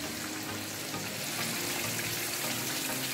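Water poured into a pan of frying chicken heart and liver masala, setting off a loud, steady sizzle with bubbling and hissing that continues without a break and with no talk.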